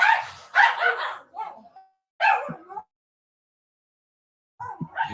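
A single dog gives a few sharp barks in short bursts separated by silent gaps, close and fairly loud.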